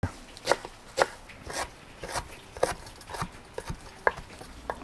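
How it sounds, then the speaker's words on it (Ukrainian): Fresh parsley is chopped with a knife on a board in a home kitchen, crisp close knocks landing at an uneven, steady pace with short pauses between strokes. "Наріжемо зелень петрушки"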